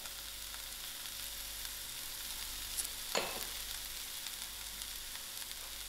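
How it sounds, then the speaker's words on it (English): Mushrooms and pepper fry on low heat in a pan, a soft continuous sizzle with one brief scrape of stirring partway through. "I'll give this a good mix"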